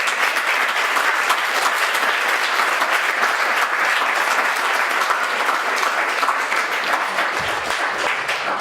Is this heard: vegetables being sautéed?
no